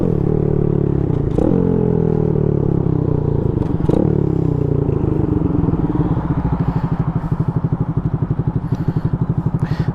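The engine of a Boom Vader 125 Honda Grom clone motorcycle runs close by, a loud, steady buzzing putter with a couple of brief blips, then settling into a rapid, even idle chug.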